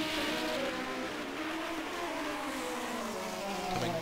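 Race cars scream past in the F1-SR 1974 sim racing game at Long Beach, a continuous buzzing high-pitched engine whine with shifting pitch, steady and moderately loud with no talk.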